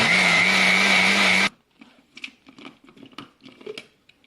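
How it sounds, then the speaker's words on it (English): An electric blender whirs loudly and steadily while blending a mango smoothie, then cuts off abruptly, leaving soft scattered clinks and rustles of handling the jar and lid. "Now I'll be blending it, blending the mango smoothie."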